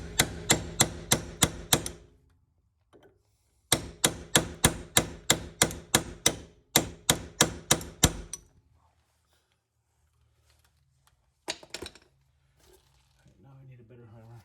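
Hammer blows driving a tie rod through an extension on a 2JZ-swapped MK3 build, coming in three rapid bursts of sharp metallic strikes, about eight to ten each, then a pause and a few lighter taps and clangs.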